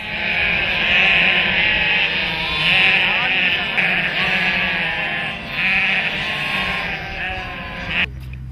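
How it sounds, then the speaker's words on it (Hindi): A flock of sheep bleats loudly and continuously, many overlapping wavering calls close by on a roadside, with some background noise beneath. "रास्ते में दिखने वाला भेड़ का झुंड काफी मनमोहक होता है।"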